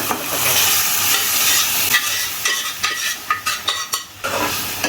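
Dal being stirred into fried tomato and onion in a hot pan for dal fry, a steady sizzle broken by a run of quick spatula scrapes and clacks, close and without talk.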